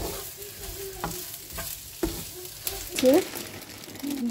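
Fried potatoes with poppy seeds are stirred in a pan over a soft sizzle, with a spoon scraping and knocking the metal several times and a brief louder scrape near the end.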